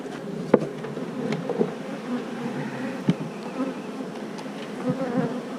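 Dense, steady buzzing from a mass of bees on a hive frame, close by, with scattered soft knocks and taps over the drone.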